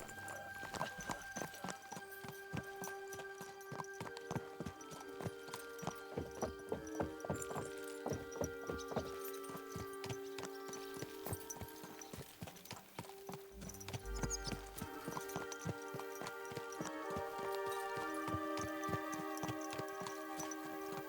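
Horse hooves clip-clop in a steady rhythmic trot throughout in Kingdom Come: Deliverance II, close and clear, with a musical backdrop of sustained tones underneath.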